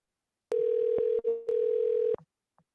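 A telephone line after redialing a number gives a loud, steady electronic tone that starts abruptly, breaks off briefly midway, resumes, then cuts out after about a second and a half.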